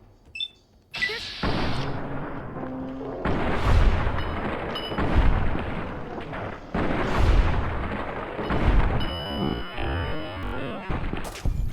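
Gunfire in the video game Fallout: New Vegas, a string of loud, sharp booming shots in irregular bursts, each with a ringing decay, with a few quiet gaps between them.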